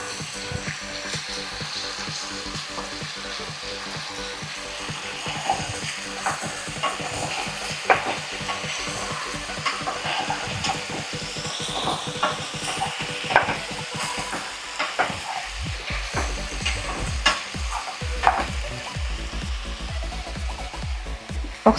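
Chicken sizzles and fries in a pan while being stirred, with steady crackling and repeated scraping strokes of a spoon throughout, fairly close and loud, with no talking.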